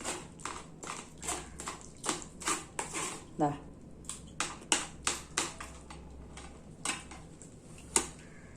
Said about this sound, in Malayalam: ഇനി നമുക്കത് ഒരു അരപ്പയിൽ ഒന്ന് അരച്ച് ഇതുപോലെ ഒന്ന് ഉടച്ചെടുത്താൽ മതി